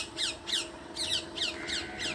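Birds give repeated sharp, squawking calls in quick pairs at dawn in farm fields in Punjab, fairly close and loud over a faint background hum.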